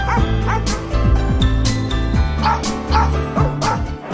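A dog barks repeatedly in sharp yips and whimpering bow-wows, close and loud, in an irregular series across the whole stretch.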